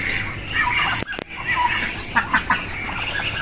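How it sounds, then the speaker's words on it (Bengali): Ducks, including large ones, are let out of their coop, giving a run of close, short quacking calls with a sharp knock midway and a quick series of louder calls near the end. "বড় কেষ্টের হাঁসগুলো ছেড়ে দিই, এই যে বড় দুটাকে ছেড়ে দিলাম"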